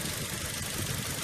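A 2006 Toyota Innova with a 2.0 engine idles with its engine bay open, giving a steady, even mechanical hum and light rhythmic ticking with no voices over it.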